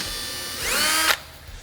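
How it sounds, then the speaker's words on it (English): A power drill bores through the painted door skin of a soft cab enclosure on a Polaris RZR XP1000 UTV, making a short, close, rising whine that ends abruptly in under a second. "So now we're just gonna drill straight through our paint mark."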